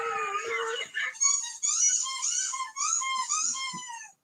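A dog whimpers and howls in a run of rising and falling wavering cries, close and fairly loud, with a few soft thumps near the end.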